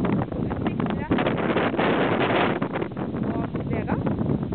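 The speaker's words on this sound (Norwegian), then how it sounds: "her er veldig mye vind oppå her" Strong wind buffets the microphone at a mountain lookout 587 metres up, a steady loud roar with gusty swells throughout.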